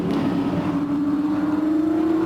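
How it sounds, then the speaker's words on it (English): An orange two-door XA V8 muscle race car sweeps through Pirelli corner at Hampton Downs, its engine a loud, steady, droning note that climbs slightly in pitch as it drives on, with no talk over it. "The orange two-door XA coming down through Pirelli corner now."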